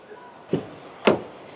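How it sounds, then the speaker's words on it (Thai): Door of a Deepal E07 electric car opening in a quiet space, two short separate clunks about half a second apart, the second louder and sharper, with no talking. "เปิดประตูออกมานะครับ"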